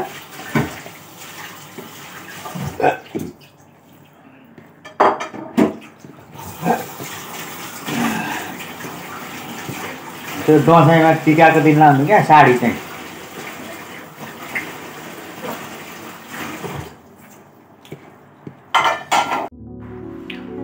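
Dishes being washed under a running tap: water splashing, pots and cutlery clattering up close in bursts, with someone talking over parts of it.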